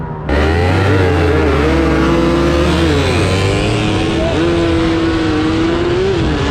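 A Suzuki Satria two-stroke motorcycle with freshly set compression, a skimmed piston and a skimmed head, accelerating hard close by. The engine revs up loudly, climbing in pitch, dropping briefly as it shifts gear, then climbing again.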